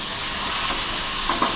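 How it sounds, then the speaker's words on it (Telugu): Potato fry cooking in a pan with turmeric, giving a loud, close, continuous sizzling hiss in a brief burst with a couple of light clinks near the end. "మనం పక్కన వేగించుకునే పొటాటో ఫ్రైలో కొంచెం పసుపు వేసుకోవాలి"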